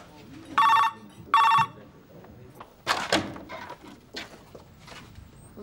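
An old-fashioned telephone bell rings twice in short, loud bursts in a hotel, followed by a door thud and people talking.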